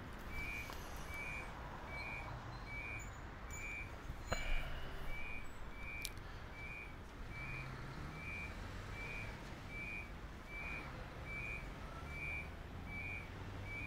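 Warning beeps in the Train Simulator game aboard an IC train bound for Konstanz: a steady series of short, evenly spaced beeps, about a dozen, repeating over a low, continuous rumble of the moving locomotive.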